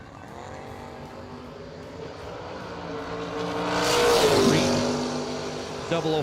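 Camaro on a solo drag racing pass, engine roar building and swelling to a peak around the middle before fading, heard from a distance under a track announcer's voice.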